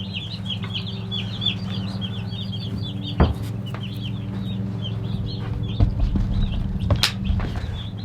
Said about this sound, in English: The meat chickens.